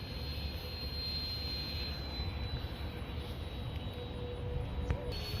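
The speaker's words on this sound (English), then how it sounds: "Thrust Vectoring ducted fan." 70mm electric ducted fan with thrust vectoring, fitted to an Easy Star model plane, running at a steady high whine with a broad rushing roar, loud and continuous throughout.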